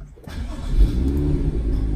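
A BMW car is switched back on, and after a brief quiet moment its engine catches and settles into a loud, steady close-up rumble.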